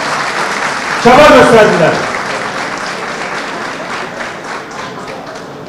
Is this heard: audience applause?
yes